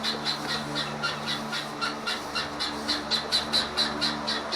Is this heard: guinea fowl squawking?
yes